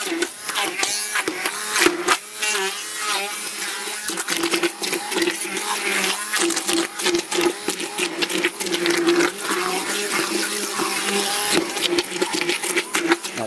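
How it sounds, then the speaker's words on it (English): A Cuisinart hand blender buzzes and churns in uneven bursts, its motor pitch wavering as it works through thick, wet applesauce, close and fairly loud. "It's called a Cuisinart hand blender."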